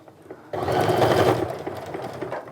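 A sewing machine stitches straight across the top of a sling bag, its steady motor hum and needle chatter starting abruptly and running continuously at close range.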